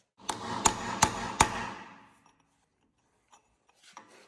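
A hammer striking a chisel to cut a groove pre-slit with a grinder while repairing a broken digger: four sharp, close metallic blows about a third of a second apart, then quiet with a few faint knocks.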